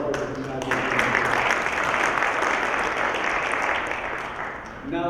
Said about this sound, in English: give a round of applause for this